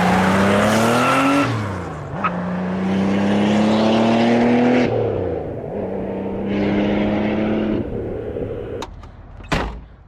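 A project Porsche 911 Turbo Carrera is driven, its engine pitch climbing through gears and dropping at each shift, loud and close, followed by a few sharp clunks near the end.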